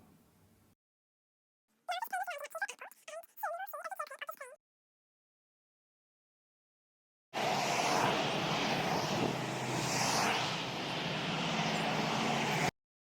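An airplane passes overhead in a burst of broad engine roar lasting several seconds, following an earlier short stretch of other sound and silence.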